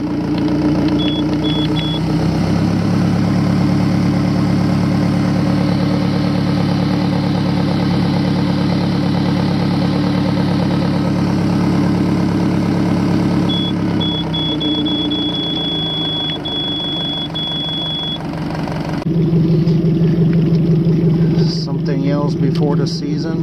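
A Suzuki DF70A–DF100B tiller-steered outboard motor idles in gear with a steady, close, continuous low drone, and a brief electronic beep sounds partway through, before the engine note shifts near the end.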